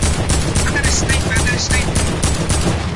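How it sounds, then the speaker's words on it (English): Video-game gunfire crackles in rapid, loud bursts of overlapping shots that continue without a break through the whole moment. "Guys, they're shooting."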